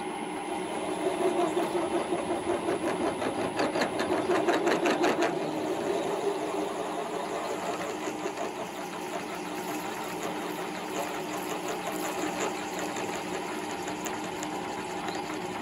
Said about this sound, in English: So it's now time to do that drilling on the pattern and all of the rest of them.